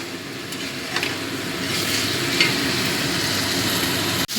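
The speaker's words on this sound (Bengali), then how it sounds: "ভালো করে কষিয়ে নেব ততক্ষণ না তেল ছেড়ে আসছে" Onion masala sautéed and stirred in oil in a pan for a tangra fish curry with onions, giving a steady close sizzle with scraping stir noises throughout and no talking.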